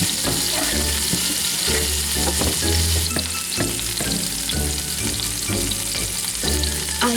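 Onions and peppers frying in melted butter in a pan, a loud, continuous close sizzle with occasional stirring knocks and scrapes throughout.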